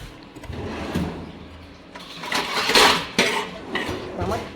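Pots and dishes clatter and clink as they are handled and set down, several sharp knocks and scrapes close by, with faint voices in the background.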